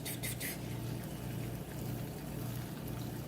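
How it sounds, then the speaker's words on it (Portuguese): Butter sizzles and bubbles in a pan as it browns toward noisette for blackberry and almond blondies, a steady close hiss of frying with no speech over it. "Vocês vão começar a ouvir um barulho de fritura."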